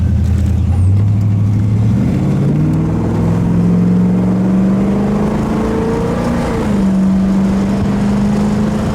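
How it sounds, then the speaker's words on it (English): A 1967 Pontiac GTO Convertible's V8 rumbles loudly and steadily up close, its deep tone rising and settling as the engine revs through nine seconds with no talking. "You don't get rumble like that out of today's electric cars."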